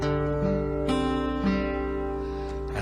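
Fingerpicked steel-string folk guitar playing Scarborough Fair, with single plucked notes ringing over open strings at a slow, steady pace, close and clear with no voices.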